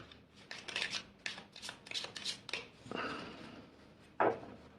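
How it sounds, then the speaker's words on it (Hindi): Tarot cards being shuffled by hand for a pick-a-card reading: a quick series of papery riffles and rubs, then a softer slide and one sharp final tap, close and fairly quiet with no talking. "इसको एक बार शफल करके रख लेते हैं"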